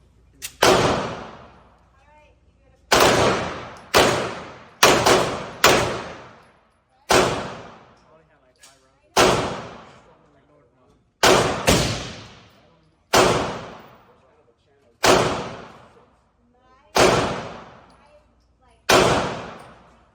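B&T KH9 firearm fired at targets on a range, about a dozen sharp single gunshots spaced a second or two apart, each loud and close with a decaying tail.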